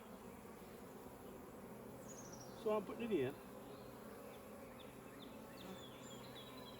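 Honey bees buzz faintly around a hive where sugar water is being added, and a soft voice speaks under a brief clatter midway.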